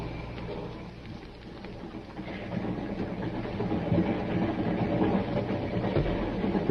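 A moving train in a radio drama, a few minutes out of Glendale, gives a steady low rumble and rolling clatter that swells slightly louder partway through, with no voices.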